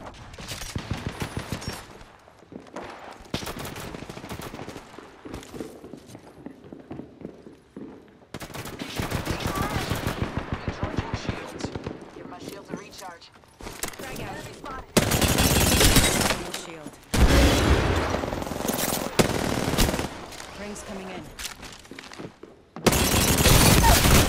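Bursts of automatic gunfire in the Apex Legends video game, loud rapid volleys from several weapons with short pauses between, heaviest toward the end, with some in-game voice callouts mixed in.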